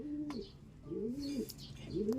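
Pigeons coo close by in a loft in repeated low, throaty rolling calls, about three phrases in quick succession with a brief flutter between them.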